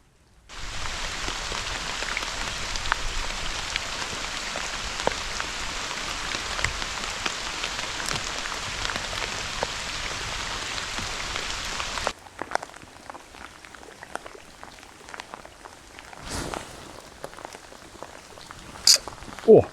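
Steady rain patters on the surface of a forest lake, a dense continuous hiss that holds for about twelve seconds, then thins to scattered drops and faint close movements.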